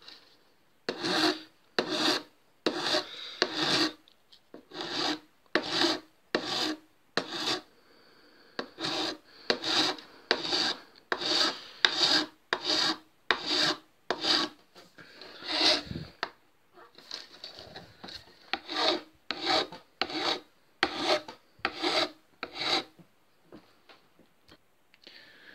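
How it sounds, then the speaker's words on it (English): Rhythmic rasping strokes of a file shaping the nut of a Les Paul Custom guitar, close and loud, in steady bursts of back-and-forth strokes with brief pauses, alone without talk. "Shaping the nut after cutting the slots."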